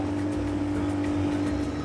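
Motorboat on the Orinoco river, a steady close engine drone with a pulsing low throb and rushing water noise, continuous throughout.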